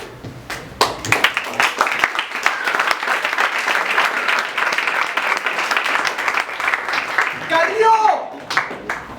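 Crowd applause at an oral poetry slam, close, lively clapping with sharp individual hand claps, swelling for several seconds before tapering, with voices briefly audible near the end.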